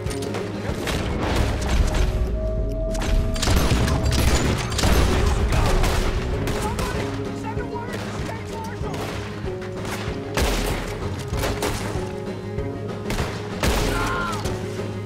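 Gunfire in Red Dead Redemption 2: repeated sharp shots crack over a dense game soundscape of music and effects, coming in irregular bursts throughout, some close and loud, with occasional mechanical clicks between them.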